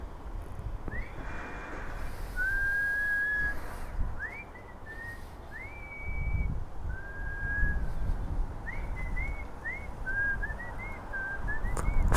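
Someone whistles the Game of Thrones theme in short, clear rising and sliding phrases, with pauses between them, over faint outdoor background noise.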